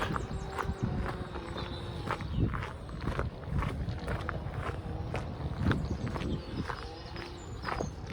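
Steady footsteps crunch along a compacted gravel path outdoors, a regular walking rhythm of crisp, close crunches repeating throughout.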